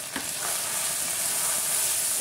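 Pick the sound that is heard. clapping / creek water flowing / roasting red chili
roasting red chili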